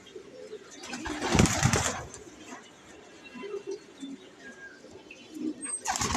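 Prize racing pigeons, restless while being handled, coo softly nearby, with a brief louder rustling burst early on and faint chirps around it.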